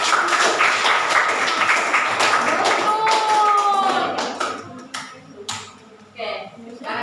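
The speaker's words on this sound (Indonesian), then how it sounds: "Tepuk tangan untuk kelompoknya" Classroom applause for a student group in a ninth-grade maths lesson, a burst of many hands clapping that fades out after a few seconds, with voices and chatter mixed in.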